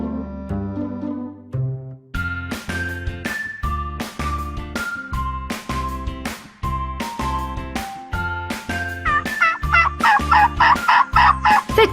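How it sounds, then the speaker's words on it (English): Turkey gobbling comes in a rapid, rhythmic run of bubbling calls, repeated steadily and loud, with a tinkling jingle near the end. "Individual turkeys have unique voices."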